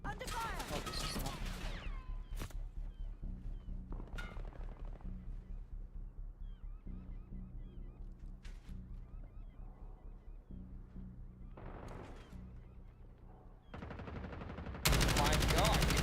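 Automatic gunfire in a shooter video game, with rapid bursts and scattered single shots across the match, plus loud noisy blasts near the end and voices heard intermittently.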